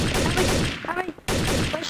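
A silenced sniper rifle is fired in the video game Trouble in Terrorist Town, heard among rapid, close bursts of gunfire that break off for a moment and then resume.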